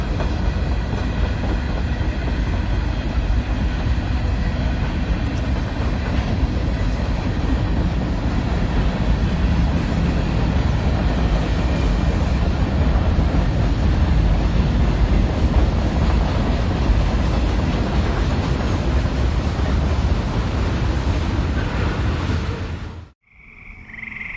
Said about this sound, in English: This is train UDK, Conrail's unit coal train